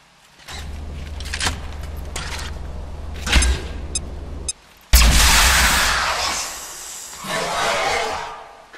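A frag grenade detonating in the XCOM 2 tactical game: a sudden loud broadband blast with a rumbling, decaying tail that follows a stretch of quieter combat noise and low hum.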